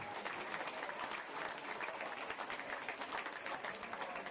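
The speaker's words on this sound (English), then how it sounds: "I think they deserve a round of applause as well." An outdoor crowd at a football match applauds firefighters from Fire and Rescue New South Wales, a dense, steady burst of clapping from many hands sustained throughout, moderately distant and without speech over it.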